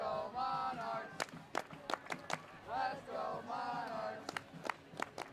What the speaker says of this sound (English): Great support from the crowd there again